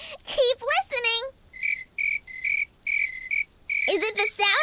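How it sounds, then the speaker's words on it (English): Crickets chirping steadily in short repeated pulses, with bursts of voices or playful calls at the start and end partly overlapping the insect sound. "Is it the sound of pigs oinking or crickets chirping?"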